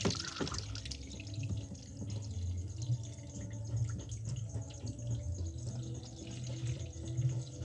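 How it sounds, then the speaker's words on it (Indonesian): Water from a washing machine drain valve keeps running out to the drain despite a stretched rubber seal, a steady low trickling flow with faint dripping, continuous and close, no voices. "Ini airnya tetap keluar ke pembuangan walaupun karet sealnya telah kita renggang-renggangkan"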